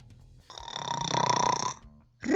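In a children's bedtime story, a voice imitates a loud snore, one drawn-out rumbling rasp lasting over a second, close and alone.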